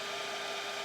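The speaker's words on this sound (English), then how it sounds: "vacuum up as many of the adults as I can" A vacuum cleaner runs steadily at close range, sucking up yellow jackets at a nest inside a garage, a continuous loud whooshing drone with no break.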